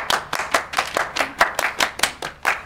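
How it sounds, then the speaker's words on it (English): Hands clap in a steady, even rhythm during a dance-along game, roughly a dozen crisp close claps with no talking over them. "Everybody clap your hands."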